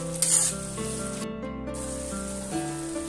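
Poppy seed paste frying with pointed gourd and spices in a pan, a steady close sizzle with soft stirring scrapes throughout, a few louder clatters near the start and under a background musical tone.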